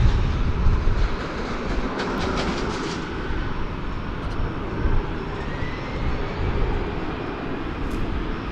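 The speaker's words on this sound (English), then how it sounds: "That plane was arriving from Cancun. That's an Airbus A321." An Airbus A321 arriving from Cancun at DFW Airport passes as a broad, steady roar of jet engines that stays loud and sustained throughout, with slight swells and no talk.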